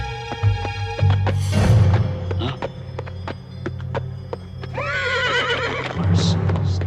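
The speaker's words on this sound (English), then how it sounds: "Sure are a funny-looking horse, aren't you, boy?" A cartoon horse from BraveStarr, found in a sacred chamber, lets out a loud, close whinny with a shaky, wavering pitch, set over hooves clopping and a low musical hum.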